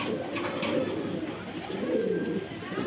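Caged Pakistani Giribaz pigeons, including hens and a cock, coo steadily at close range, their soft warbling calls overlapping throughout without any talk.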